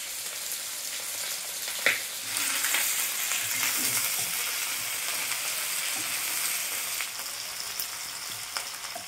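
Chopped onion dropped into hot oil in a home kitchen, sizzling and frying with a dense, steady crackle, a sharp splash near the start, and occasional stirring clicks.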